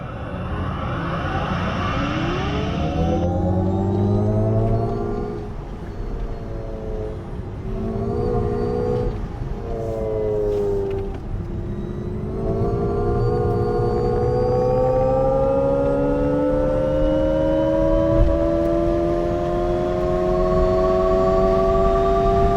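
An Alpine A290 electric hot hatch drives with its synthetic sound, a steady hum whose tones rise gradually as it gathers pace, sustained and fairly loud with no talk.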